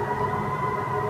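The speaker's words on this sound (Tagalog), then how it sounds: "Anong siren ng sunog." Fire truck siren wailing beside a highway, a steady tonal howl over low traffic rumble, moderately loud and without speech.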